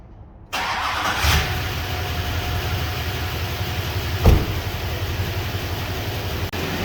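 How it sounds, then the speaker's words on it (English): After a brief silence, a GM LBZ Duramax diesel truck engine cranks and turns over, then settles into a steady, rumbling idle, close by, with a couple of sharp clunks. "so let's go ahead and get that truck started."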